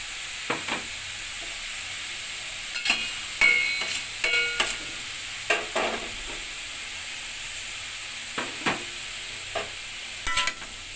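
Cabbage and fried potatoes are stirred in a pan while cooking for a rohu fish-head dish: irregular scraping strokes and clatters stand out over a constant soft sizzle, with no talking.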